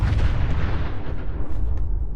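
Rocket explosions in Fallout 4, a loud, dense rumbling blast that fills the whole moment and slowly decays, heavy in the low end.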